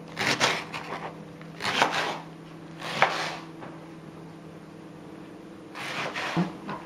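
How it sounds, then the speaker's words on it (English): A knife chops a leek on a cutting board in short close bursts of rapid thuds, with pauses between the bursts. "Okay, so that's the leek all chopped up."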